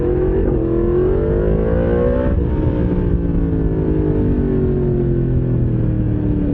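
Yamaha MT-10SP motorcycle engine accelerating hard, a loud, steady roar with rising pitch climbing through the revs above 6,000 RPM, briefly dipping at a gear change before pulling hard again.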